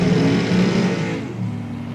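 A 2000 Firebird and a 2010 Corvette Roadster drag race at an NHRA event, their engines droning loud and close in a sustained, throaty roar that eases slightly partway through.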